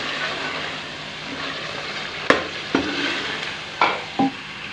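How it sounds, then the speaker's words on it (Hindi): Peas and chicken stir-fried in a pan give a steady sizzle, broken by several sharp scrapes and clinks of a spoon stirring against the metal, fairly close and without talk. "मटर डाल के हम इसको 4 से 5 मिनट भूनेंगे।"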